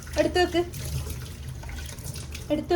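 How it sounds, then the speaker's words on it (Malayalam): Raw rice is washed in running water at a kitchen sink, a steady tap-and-sink wash with short bursts of talk at the start and end. "അപ്പം നമുക്ക് അരി കഴുകാൻ കഴിയും."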